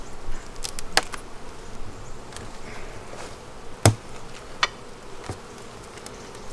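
A dense, steady buzz of many honey bees fills the air up close, with a few sharp knocks and taps of hive equipment.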